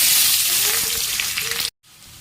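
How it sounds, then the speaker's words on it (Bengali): Onions fry in hot oil in a wok with a loud, steady hiss and crackle that stops abruptly near the end, followed by a quieter background hum. "কড়াইতে তেল গরম হয়ে গেছে, প্রথমে পেঁয়াজগুলো ভেজে নেবো"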